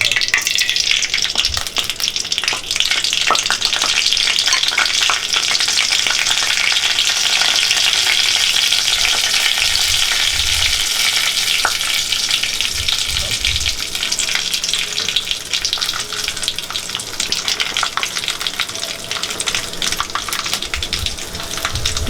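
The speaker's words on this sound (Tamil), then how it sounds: "பார்த்தீங்கன்னா தெரியும் கடுகு நல்லா தா பொரிகிறது" Mustard seeds and urad dal frying in hot oil for vallarai chutney, a loud continuous crackling sizzle with dense popping and faint stirring throughout, close and steady.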